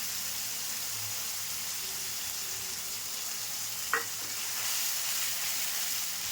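Green peas and potato fry in very hot oil, giving a steady close hiss with one brief sharp click partway through, no voices.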